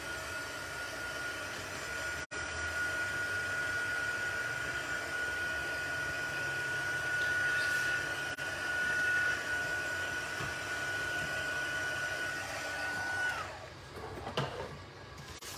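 A heat tool blowing to dry a craft piece gives a steady, moderately loud whirring hiss that runs for most of the stretch, then cuts off near the end, leaving faint background noise.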